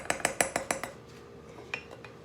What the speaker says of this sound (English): I'm going to stir up my kombucha, and you'll see it foam up.